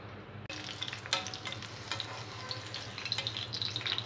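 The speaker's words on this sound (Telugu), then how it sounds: "ఆయిల్ వేడైన తర్వాత పచ్చిమిరపకాయలు ఫ్రై చేసుకోవాలి." Green chillies fry in hot oil in a pan, producing a steady close sizzle with crackling pops and occasional stirring scrapes, starting with a sudden burst as they hit the oil.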